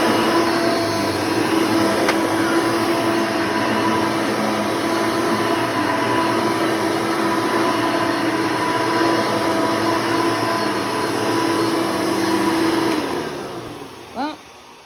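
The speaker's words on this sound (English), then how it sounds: "I'm gonna go back again with the Hoover Supreme and see if I can get some carpet lines with this one." A Hoover Supreme upright vacuum cleaner runs on shag carpet with a steady whining motor drone that cuts off near the end, leaving a brief knock.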